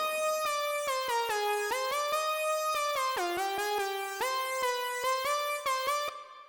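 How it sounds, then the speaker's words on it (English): Logic Pro Retro Synth hyper lead with reverb, a bright buzzy synthesizer melody of gliding sustained notes over a rhythmic clicking pulse, played alone with a reverberant tail. "that's retro synth with some reverb, and it's hyper lead"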